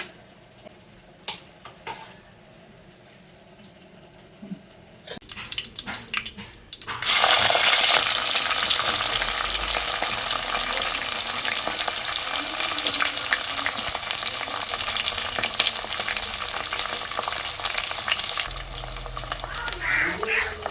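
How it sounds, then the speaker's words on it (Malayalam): Onion and ginger sauté in a pan for Kerala-style beef curry, a loud steady sizzle that starts abruptly partway through after some quieter clatter and continues without voices. "ഉള്ളിയും ഇഞ്ചി എല്ലാം കൂടി ഇട്ട് കൊടുത്തിട്ടുണ്ട്"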